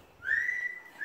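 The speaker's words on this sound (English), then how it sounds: "She's whistling at us." A double yellow-headed Amazon parrot gives a single rising, sustained whistle, clear and fairly close, then a short second note begins at the end.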